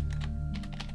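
Rapid keystrokes on a computer keyboard, typing a short line in a terminal, close and steady with no talking.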